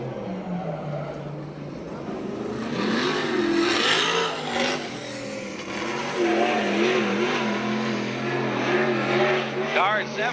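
USAC/CRA sprint cars roar around the Santa Maria, California track, engines rising and falling as they pass, loud and continuous with a voice talking over the noise.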